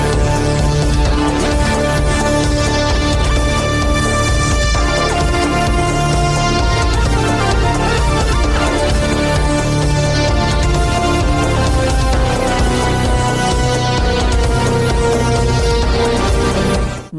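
Dark synthwave instrumental from a debut album, loud and dense with steady pulsing bass and layered synth lines running throughout, no voices.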